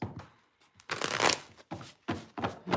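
Tarot cards being shuffled during a reading: several quick, close riffling bursts of card stock, separated by short pauses.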